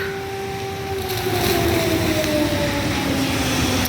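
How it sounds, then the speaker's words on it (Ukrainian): An air raid siren wails over Kyiv city centre, a sustained tone slowly falling in pitch, moderately loud above a bed of street and traffic noise. "О, повітряна тривога лунає."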